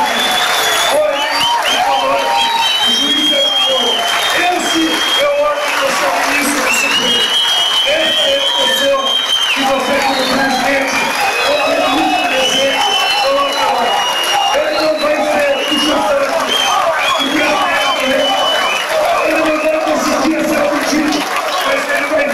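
A large audience at a political lecture in Brazil gives a standing ovation, with sustained loud applause and cheering voices that continue without a break under a speaker talking over the crowd.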